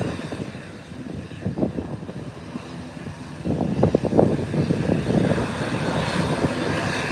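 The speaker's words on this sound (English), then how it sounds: "While the ATR is making its way to the taxiway" An ATR 72 turboprop airliner taxis nearby with a rumbling propeller-engine drone that grows noticeably louder about halfway through and stays strong.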